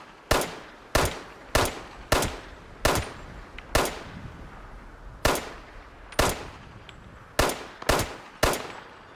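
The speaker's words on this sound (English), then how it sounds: "I'm trying to shoot far off with a pistol" Pistol gunshots in the video game Fallout 76, about a dozen sharp single cracks fired at an irregular pace, each with a short ringing tail, loud and alone with no talking.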